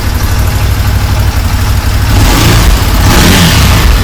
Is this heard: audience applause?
no